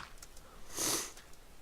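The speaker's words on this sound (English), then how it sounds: "forgive the sniffle, I'm a little bit unwell right now" A single short, quiet sniffle, a quick breathy intake through the nose, in an otherwise quiet room.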